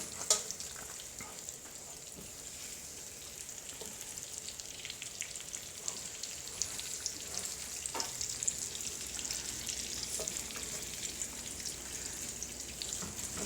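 Chicken pieces frying in a pan for coq au vin make a steady, close sizzle, with occasional small pops and clicks as more pieces are laid into the hot fat.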